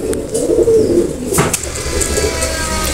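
Pigeons of the Oman bloodline teddy type coo nearby in low, rolling, repeated calls, with a brief flutter or rustle midway.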